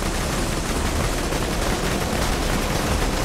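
Borderlands 2 firefight with dense, continuous rapid gunfire, loud and unbroken for a few seconds with no talking.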